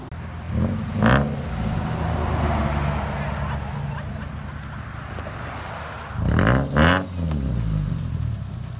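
A 2012 Subaru Outback with straight-pipe exhaust and a stick shift idles with a rough rumble, then revs in two short bursts early and two more later, loud and close, with people talking over it.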